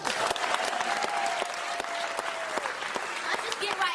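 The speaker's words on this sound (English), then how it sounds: "So clap it up for that." Audience clapping at a community oratorical festival, a dense burst of many hands close by and lasting throughout, with a voice speaking over it.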